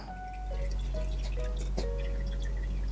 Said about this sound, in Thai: ก็สำหรับวิธีการล้างนะครับก็เทน้ำใส่ลงไปครับแล้วก็คนนิดนึง